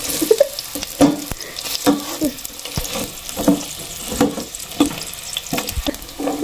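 Chopped onion sautéing in a pan as the base for lugaw, a steady sizzle broken by repeated stirring scrapes and clinks at an even rhythm, close and fairly loud with no talk.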